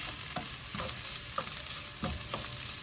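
Tomatoes, tomato paste and seasonings sizzle steadily in a frying pan, with a constant close frying hiss and occasional soft stirring scrapes, no talking.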